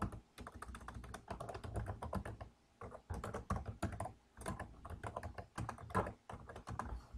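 Steady, rapid clicking of fingers typing on a computer keyboard, with irregular bursts of keystrokes and brief pauses, close and clear, with no voices.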